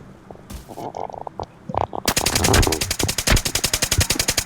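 Gunfire in the video game Arena Breakout: a few scattered shots and quieter sounds, then a loud, rapid automatic burst of evenly spaced shots rattling close up for the second half.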